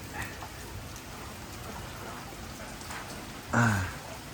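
Rain falling steadily in a rural outdoor setting, a soft, continuous hiss of drops on surfaces, with a brief louder voice-like sound near the end.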